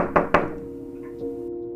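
Two sharp, hollow knocks strike a door in quick succession, the first a little softer than the second, then a faint ringing decay fades into quiet, used as a horror story effect.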